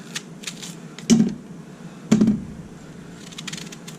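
A knife quartering a whole onion on a cutting board, two distinct sharp thunks about a second apart, close and clear, with faint light clicks in between.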